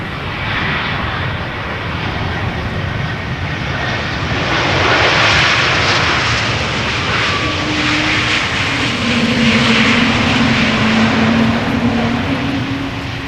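An Air Baltic airliner arriving at Amsterdam Schiphol from Riga roars steadily overhead, its engine noise swelling slightly midway with a low tonal whine, loud and sustained throughout with no voices.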